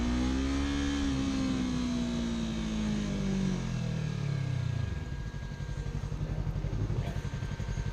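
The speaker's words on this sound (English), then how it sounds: "Now that wasn't a major rev bomb" A motorcycle engine revs loudly beside a car stopped in traffic, the pitch falling steadily over several seconds and then settling into a rough, throbbing idle, with no talk over it.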